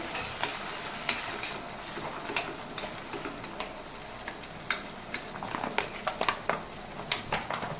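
Paneer chilli frying in a pan as soy sauce is stirred in: a soft sizzle runs under quick spoon clicks and scrapes against the pan, which speed up toward the end.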